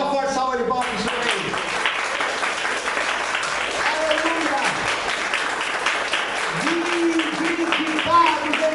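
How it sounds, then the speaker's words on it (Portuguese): Church congregation applauds loudly and steadily with continuous dense clapping, while voices shout and cheer over it and a sung note rises at the start. "Dá uma forte salva de palmas para o Senhor."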